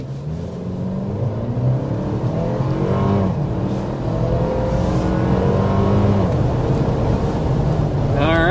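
A 2025 Toyota Land Cruiser with the iForce Max hybrid 2.4-litre turbo four-cylinder pulls hard under acceleration, its engine note rising steadily in pitch and staying loud and close throughout, with no talking over it.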